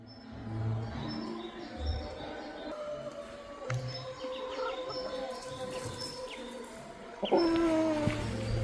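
Birds at a small zoo chirp and tweet on and off at moderate distance, with scattered short calls over a steady outdoor background and a brief louder call near the end.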